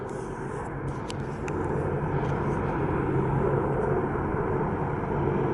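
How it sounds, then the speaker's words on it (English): A helicopter passes overhead as a steady, rumbling drone that grows slightly louder and lingers in the background, with no talk. "Some sort of a chopper."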